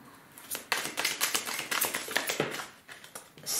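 Tarot cards being cut and shuffled, a dense flurry of quick papery taps and flicks lasting a few seconds, close by and fairly quiet, with no voice over it.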